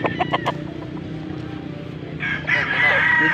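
An F1 Mount Banahaw gamefowl rooster, three years old, crows loudly and close at the end, after some clucks and faint background chatter.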